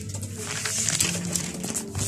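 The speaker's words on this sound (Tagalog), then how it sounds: "So nandito pa yung ating mga kalapati." Pigeons cooing inside a backyard loft fitted with a trapdoor: a steady stream of low, soft coos from several birds nearby, over a constant background hiss.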